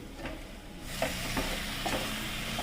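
Country chicken sizzles and fries in masala while a spoon stirs and scrapes through it in the pan, a steady close crackle broken by several soft scraping strokes, with no talking.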